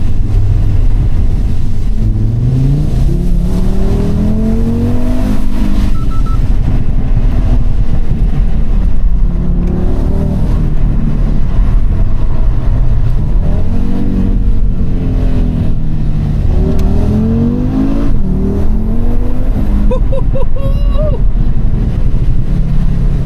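A loud engine of an Audi RS3 with a Revo Stage 2 tune revs up and down repeatedly, pitch climbing through the gears with throaty acceleration, close by and continuous, with some talking mixed in.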